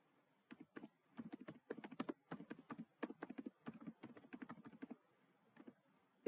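Quiet, close keystrokes clatter on a computer keyboard in quick irregular bursts of typing, broken by short pauses and stopping near the end.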